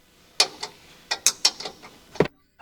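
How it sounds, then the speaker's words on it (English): A 15mm wrench tightening a bolt while fitting underglow lights on a 2014 Ford F150, giving a handful of sharp, close metallic ratcheting clicks in short irregular bursts with quiet gaps between. "Use a 15mm wrench to tighten the bolt securely."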